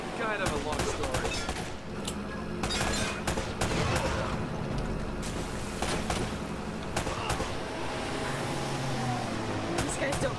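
Gunfire from Uncharted: Drake's Fortune, with dense bursts of shots popping throughout a busy combat scene, mixed with game music and other effects as voices talk over it.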